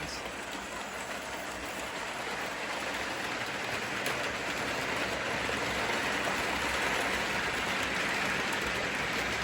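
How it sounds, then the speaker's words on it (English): A steady, continuous rumbling clatter of an O gauge model train running along track, close and even throughout with no voices. "let's just run a train."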